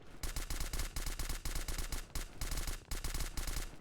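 MP5 submachine gun firing in the PC video game Delta Force Xtreme (2005), rapid automatic bursts broken by short pauses, close and sharp, with no talk.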